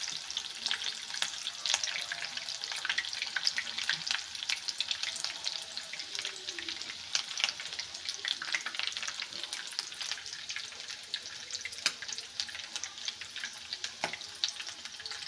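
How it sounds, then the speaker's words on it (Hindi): Chicken and potato drumsticks fry in a pan on low heat, giving a steady, dense crackling sizzle with bursts of popping throughout, close and continuous with no talking. "तो हमने सिर्फ इसको ऊपर से फ्राई करना है।"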